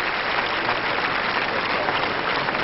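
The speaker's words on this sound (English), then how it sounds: "a big hand from this crowd here" A large tennis crowd in a stadium gives sustained, loud applause after a finals match, a dense, even wash of clapping throughout with no clear break.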